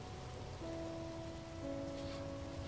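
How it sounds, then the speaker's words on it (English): Acid rain falls in No Man's Sky as a steady, faint hiss of drops on the ground, with a low droning tone sustained underneath and no voices. "It's really cloudy because of all the acid rain."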